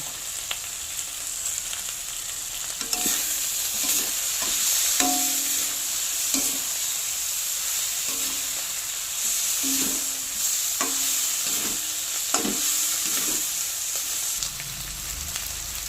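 Spiced masala thickened with ground soaked Gobindobhog rice paste fries in a pan for dhaba-style bhindi, a steady sizzle under repeated scraping stirs that come in a loose rhythm, close and fairly loud with no voices.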